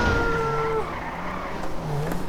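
A car in the video game GTA 5 skids, its engine drone and a long tire squeal carrying steadily and loudly from start to finish with no talk over it.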